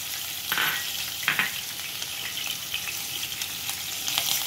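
Curry leaves and finely chopped green chillies fry with asafoetida in hot oil for kande pohe, making a dense, bright sizzle with a few louder spitting bursts and stirring sounds, no voices.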